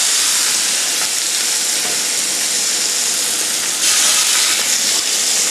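Steady, dense sizzling of skin-side-down turmeric-marinated chicken frying on a hot grill pan, loud and close, with a brief surge of crackle near the end.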